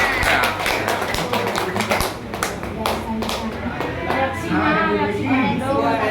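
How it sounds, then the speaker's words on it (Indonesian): People at a healing clinic in Pamekasan clap for a recovered nerve patient, a burst of close, loud hand claps over a steady low hum, with talk running under and after it. "Tepuk tangan yang meriah untuk bapaknya"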